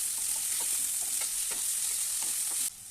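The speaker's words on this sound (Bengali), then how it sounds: "এখন এগুলি সব একসঙ্গে ভালোভাবে ভেজে নিতে হবে।" Potatoes and eggplant fry in a pan while being stirred, giving a steady loud sizzle with repeated scraping strokes of the spoon. The sizzle drops away abruptly just before the end, and no voices are heard.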